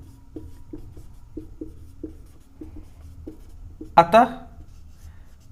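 Pen writing on paper during a maths lesson, a series of short, soft scratching strokes in an irregular rhythm, close and quiet, with a voice speaking briefly near the end.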